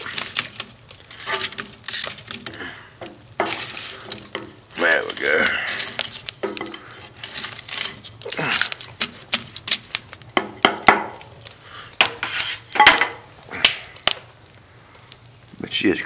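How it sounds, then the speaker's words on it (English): A metal poker stirs the burning wood in a VIAR 94 biomass hybrid wood heater, making irregular scraping knocks and clanks up close, scattered through the whole stretch as someone talks between them. "You get me a poker. Maybe we're gonna stir that fire up a little bit."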